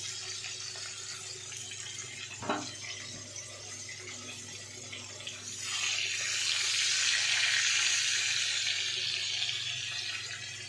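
New potatoes fry in hot oil with a soft sizzle that swells louder and fuller midway, plus a brief knock early on against a low steady background hum.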